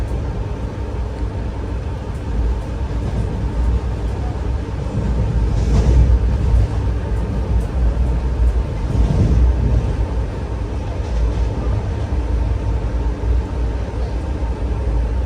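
Steady low rumble inside the chair car of the Vanchinad Express as it runs at about 90 km/h, loud and continuous with a mild swell midway, no talk over it.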